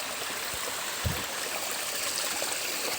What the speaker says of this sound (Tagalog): Nasa sapa po kami.